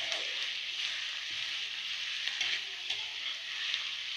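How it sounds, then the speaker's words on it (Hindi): Onions sizzle steadily in a pan, a continuous bright hiss of frying with faint occasional clicks from stirring, near and even throughout with no talking. "ये प्याज को इस तरह से हम इसका हल्का कलर चेंज होने तक इसको फ्राई कर लेंगे।"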